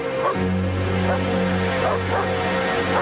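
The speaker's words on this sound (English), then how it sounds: "Tell the damn dog to be quiet." A dog yips and barks a few times over a steady low hum, the barks short and spaced apart, fairly close.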